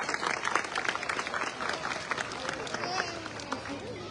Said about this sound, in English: let's have a round of applause for our zookeepers and our kitty pets as they join us on stage